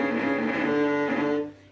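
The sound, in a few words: cello bowed too hard, crunchy sound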